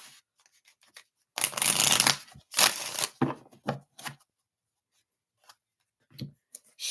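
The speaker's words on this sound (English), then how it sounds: "5 shuffles for JoJo." Tarot cards are shuffled by hand in bursts during a reading: a long riffling rush, a few shorter ruffles and quick snaps, then scattered soft taps, all close and with no talking.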